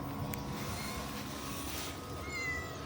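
A cat meows briefly outdoors in the town of Zhovkva, a faint call over steady street and ambient noise with no talk.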